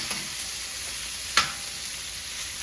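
Bottle gourd sears in hot fragrant oil with curry leaves, a steady broad sizzle holding throughout with one brief sharper crackle near the middle, close and alone without voices.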